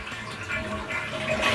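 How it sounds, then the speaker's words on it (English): A household toilet flushes at close range, a broad continuous rush of water swirling and draining with a faint hum beneath, steady for about a second and a half with no voices. "I'm gonna flush the toilet"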